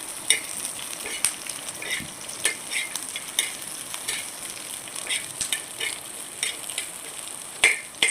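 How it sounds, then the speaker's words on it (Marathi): Onions frying in a tablespoon of hot oil for matar paneer, a steady sizzle with light crackle and the scrape of stirring, close and continuous with no voices. "आता या तेलामध्ये आपल्याला मस्त कांदे फ्राय करून घ्यायचे आहे"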